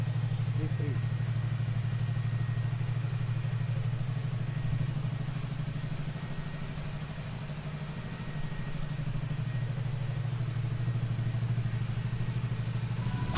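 A racing motorcycle engine, recently restored after failing, idles close by with a steady, even low hum and faint mechanical clatter, holding constant and alone throughout.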